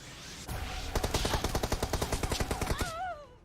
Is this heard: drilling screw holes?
no